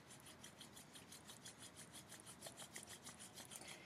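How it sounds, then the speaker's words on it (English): Hands rub together in a quiet meditation setting, a soft rhythmic swishing of skin repeated in quick even strokes, faint and alone. "And then rub your hands together."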